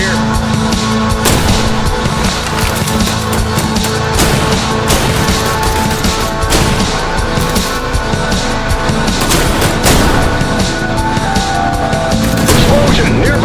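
Dense gunfire and booming blasts with a nearby explosion from the video game I Am Your Beast, a loud continuous barrage of sharp shots and crashes with music mixed underneath.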